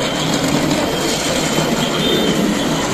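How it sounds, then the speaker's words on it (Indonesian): Steady rumbling clatter of a small Doraemon toy train running along its track, a continuous whirring roll close by with no voices. "Kereta api Doraemonnya sangat cepat."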